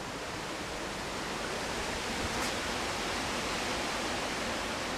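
Steady, loud broadband wind buffeting an outdoor microphone on a blustery day, a continuous roar running the full length with no talk.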